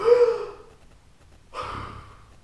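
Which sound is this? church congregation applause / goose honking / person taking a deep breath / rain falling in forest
person taking a deep breath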